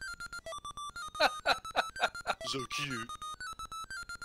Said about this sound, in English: That's the alarm.